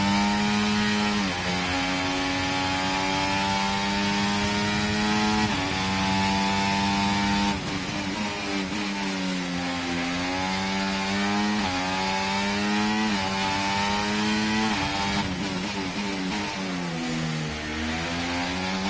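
A Formula 1 car's high-revving engine screams through repeated gear shifts in the F1 24 racing game on PS5, the pitch climbing and dropping in a steady loud race-pace pattern with no talking.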